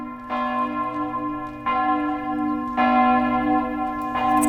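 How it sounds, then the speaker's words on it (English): Church bells toll late at night in a city, with several slow, resonant strikes a second or so apart, each ringing out and overlapping the lingering hum of the last. "The church bells start to sound."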